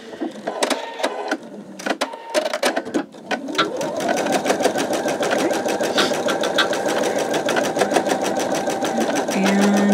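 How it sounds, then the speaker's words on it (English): A Pfaff Creative 4.0 embroidery machine stitches out a line of lettering, its fast steady needle chatter running close and continuous after a few brief starts and pauses, with a soft hum underneath. "This is actually stitching out really quickly."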